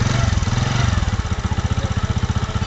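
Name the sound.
Spider YG-H100-A motorcycle engine starting and idling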